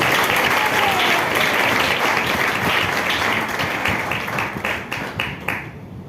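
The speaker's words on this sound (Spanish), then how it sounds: "Denle un aplauso al Señor porque Él es el que vive." A church congregation claps together in dense, sustained applause that fills the room at close range, then tapers off and thins toward the end.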